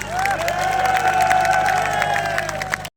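A crowd at a political rally claps and cheers loudly and continuously for about three seconds, with voices shouting over the applause.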